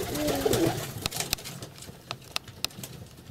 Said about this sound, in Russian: У меня уже довольно большие голуби сидят.